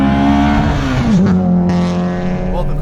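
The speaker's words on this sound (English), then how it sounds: "What a weird little angry sound." Nissan Sentra SE-R four-cylinder track car engine, a loud, close, buzzy rasp that holds steady, dips briefly and then settles back into a strained hum. A voice can be heard faintly over it.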